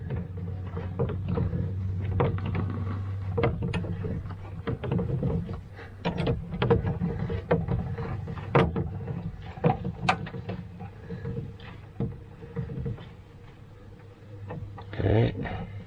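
Spare tire being cranked down from under a 2018 Chevrolet Colorado pickup, a steady low mechanical grinding and rattling with intermittent clicks and clanks, fairly close and moderately loud throughout.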